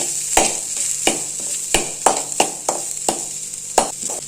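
Oil sizzles and crackles in a pan while goat blood poriyal fries, with a steady hiss under a string of sharp spatula scrapes and stirring knocks at an irregular rhythm, close and moderately loud.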